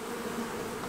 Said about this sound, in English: these nurse bees still haven't flown off